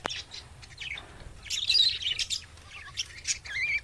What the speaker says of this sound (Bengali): হলুদ পাখিগুলোর নাম কি লুটিনো